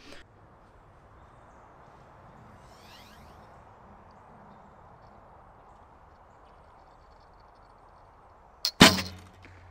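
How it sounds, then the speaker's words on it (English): A lighter 500-spine arrow shot from a Hoyt RCRV Podium bow, one sharp, loud crack of release and impact near the end after a long quiet stretch of faint room noise. "They are a lighter arrow, so it'll probably even make the bow feel a little bit better, but it probably is gonna be a little louder."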